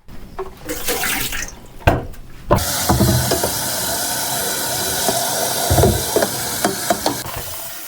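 Water runs from a tap into an electric heater for making plain tea, a steady hiss and splash that follows a few clunks and knocks of handling, with small bangs of the vessel near the end.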